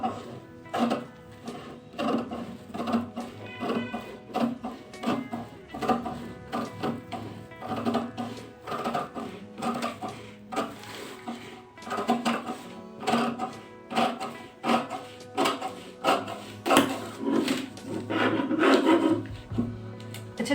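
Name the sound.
cutting cloth for a shirt pattern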